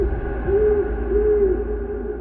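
An owl hoots in low, drawn-out calls, two or three in a row, over a steady low background hum.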